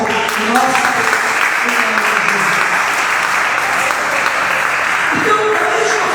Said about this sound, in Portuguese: Se você quer aplaudir bem forte, nossa.